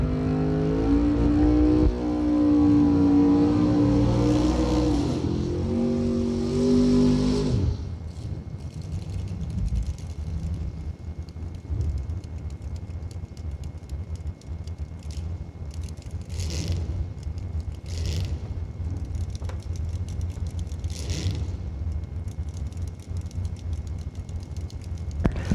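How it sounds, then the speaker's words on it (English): Mike Bloomfield Jr.'s race car is heard during a tire test run and burnout at a drag strip event: a loud, steady engine roar for several seconds drops into a lower rumbling idle with scattered higher bursts, and no talking. "Mike Bloomfield Jr. coming up to do the test run on the tires and the burnout."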